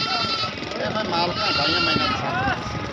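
A pregnant goat, about two and a half months along, bleats with a wavering cry at a goat market, heard close under steady crowd chatter.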